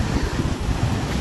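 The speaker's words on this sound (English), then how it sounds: "This is the sea in the road. That's the sea. The road has become a river." Sea water surging across a road during Hurricane Melissa in Jamaica, a loud, close rush of churning water buffeted by heavy wind noise on the microphone, with no voices.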